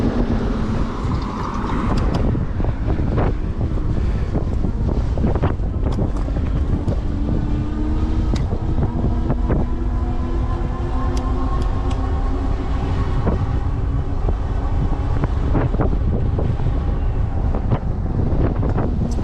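Heavy wind roars steadily across the microphone during an e-bike ride, loud and continuous throughout, with faint mechanical hum beneath.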